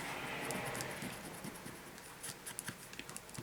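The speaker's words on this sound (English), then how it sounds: "I'm going to get an eraser and erase" An eraser rubs pencil marks off the top edge of paper during work on snowflake artwork, making close, quiet scratchy strokes in an irregular rhythm.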